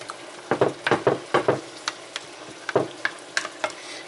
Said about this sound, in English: we want to cover the bottom with a thin layer of sauce just to get the noodles not to stick to the bottom